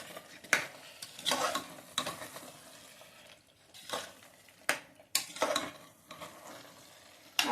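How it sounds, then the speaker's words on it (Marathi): Pav bhaji vegetables stirred and sautéed in a pressure cooker, a spoon scraping and clanking against the metal in repeated bursts over a soft frying sizzle, close and fairly loud with no talking. "आता हे घातल्यानंतर छान असं परतून घ्यायचंय सगळं"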